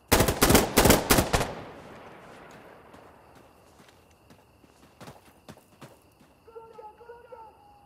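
Weapons fire in the shooter game Insurgency: Sandstorm: a rapid loud burst of shots at the start, then scattered distant single shots and faint clatter, with a brief tonal game sound near the end.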